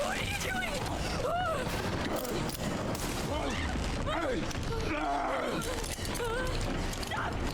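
Gunfire in the horror video game Resident Evil Requiem, dense and continuous, mixed with game effects and a groaning creature while people talk and shout over it.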